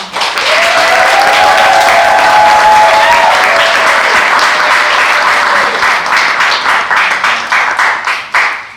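An audience at a summer showcase applauds to welcome two lead teachers onto the stage, a loud sustained wave of clapping with a brief whistle early on, gradually thinning out toward the end.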